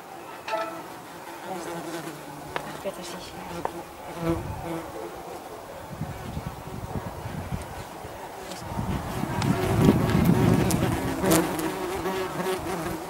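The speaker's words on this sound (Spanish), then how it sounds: "el número de avispas había aumentado de manera considerable" Yellowjacket wasps buzzing around a piece of raw meat held outdoors, several insects droning close to the microphone with shifting pitch and occasional wind rumble, growing busier toward the end.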